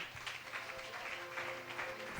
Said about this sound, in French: Frère, applaudissez pour nous, s'il vous plaît.